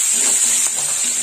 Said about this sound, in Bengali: পেঁয়াজটা একটু লাল লাল ভাজা হবে